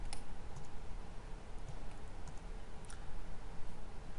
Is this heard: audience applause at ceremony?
no